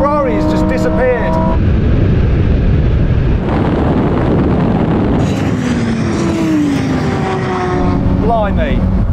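Lamborghini STO, Ferrari Pista and Porsche GT3 supercars launching hard in a drag race, a loud sustained engine roar with rising gear pulls and wind rush, voices talking over it.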